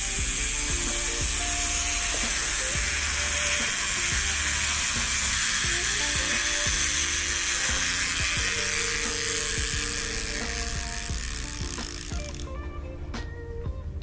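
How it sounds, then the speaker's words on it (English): Lever on a dome glass installation rig for a Samsung Galaxy S21 Ultra screen protector, pulled and released, followed by a steady close mechanical ratcheting whir that runs for about twelve seconds and then stops. "What I like to do is hold the rig and then pull on the lever and let it go."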